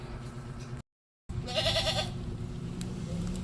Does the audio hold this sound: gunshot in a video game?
no